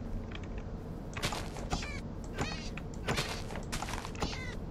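Several rising, wavering meows from a cat in Minecraft come in quick succession, fairly close and clear over a steady background hum.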